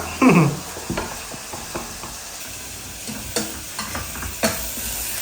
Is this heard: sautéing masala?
yes